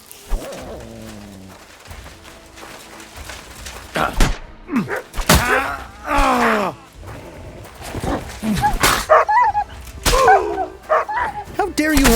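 Dog barking and yelping in a medieval village scene in the video game Kingdom Come: Deliverance II, several sharp barks bursting out amid thuds and someone talking over the commotion.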